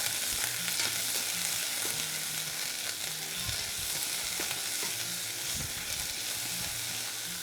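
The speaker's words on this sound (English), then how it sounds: "Just keep on stirring it." Food sizzles steadily in a hot pan while it is stirred, with soft scraping and clinking from the utensil over a constant hiss.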